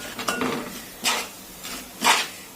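A utensil stirs salmon fish curry in a pot, a few distinct scraping, clinking strokes against the pot spaced about a second apart, close and fairly loud with no talk.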